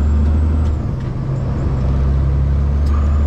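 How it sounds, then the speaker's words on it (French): An articulated accordion bus going by on a busy Montreal city street, a loud, close diesel rumble with a steady low drone and a brief hiss. "Bus accordéon."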